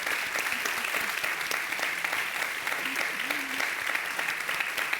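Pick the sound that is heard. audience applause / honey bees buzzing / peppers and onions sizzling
audience applause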